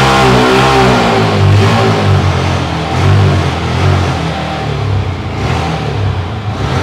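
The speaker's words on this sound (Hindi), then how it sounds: "ये आप देख रहे हो ना RPM ड्रॉप हो रहे हैं, मैक्सिमम थ्रॉटल पर है अभी है" Yamaha R15 motorcycle engine held at maximum throttle with a fuel-injection misfire, a loud continuous close-up roar that wavers and stumbles as the revs dip and recover, with no talking.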